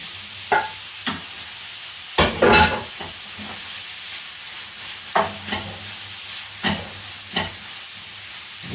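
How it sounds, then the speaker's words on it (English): Ostrich mince with a chopped chilli and grated carrot sautéed in a pan, a steady sizzle broken by repeated scraping stirs at close range, with no talking. "Give this a good saute."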